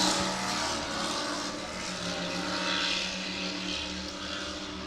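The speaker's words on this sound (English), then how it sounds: "the engines sound a little rough, a little ragged" Supercat-class racing powerboat engines at Key West, heard as a steady, dense roar running continuously and fairly loud with a slightly uneven, ragged texture.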